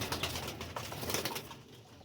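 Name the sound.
Sialkoti breed pigeons cooing and flapping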